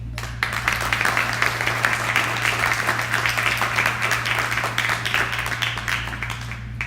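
A seated audience claps warmly for performing artists at the start of an evening event, dense sustained applause at fairly close range that holds steady throughout, with a faint low hum underneath.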